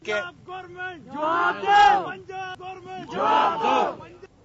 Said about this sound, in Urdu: اس موقع پر پیپلز پارٹی کے کارکنان نے پنجاب حکومت کے خلاف نعرے بازی بھی کی۔